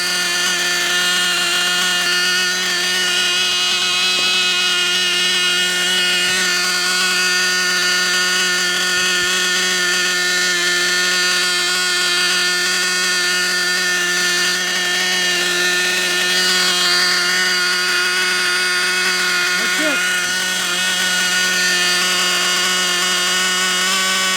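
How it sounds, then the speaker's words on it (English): A heat gun, used to help warm a modified Novarossi .28 model engine, gives a steady loud whirring drone with a constant tonal hum that stays unbroken for the whole stretch. "you can even quicken it up with the heat gun"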